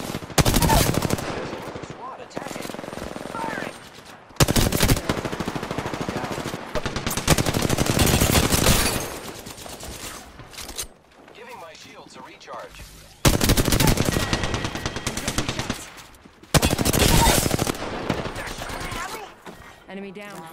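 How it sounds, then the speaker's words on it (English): Video game gunfire comes in repeated loud bursts of rapid automatic shots separated by short quiet gaps, with a voice speaking faintly between them. "I am taking fire. Getting shot at."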